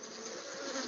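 Honeybees swarm and buzz around royal jelly queen cells on a frame lifted out of the hive, a dense, steady, close hum with no pauses.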